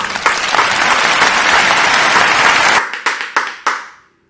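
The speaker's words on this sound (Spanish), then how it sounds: "así que démosle un fuerte aplauso." Studio audience at a tropical crossover artist's interview show bursts into loud, dense applause that holds steady, then breaks into a few scattered final claps before fading to silence.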